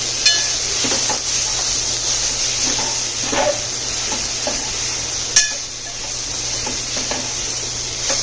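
Tomatoes and masala sauté in a pan for sambhar vadi, with gram flour and dried fenugreek leaves added, giving a steady close sizzle, scattered stirring scrapes and a few sharper clinks of the spoon against the pan.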